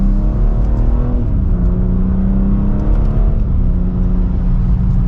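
A 2024 BMW X3 M Competition pulls hard from second gear, its engine droning loud and close with rising pitch through two shifts, no voices.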